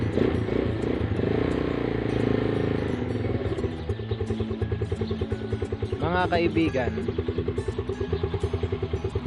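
A motorcycle engine starts up and settles into a close, steady idle with a fast rhythmic ticking clatter from the engine, heard under a voice.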